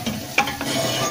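Egg crepe setting in a frying pan, a soft continuous sizzle with a light scrape or clink of a utensil against the pan, close and quiet, with no voices.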